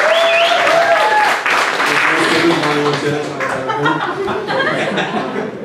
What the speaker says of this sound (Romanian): Și vă rog să îl aplaudăm ca să îl încurajăm.